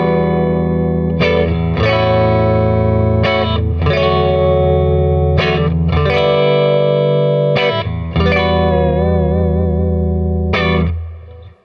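A Fender Jaguar electric guitar with both pickups wired in series plays distorted, effects-laden chords and sustained notes with chorus and reverb. The tone is thick and loud, with pauses between phrases before a final fade.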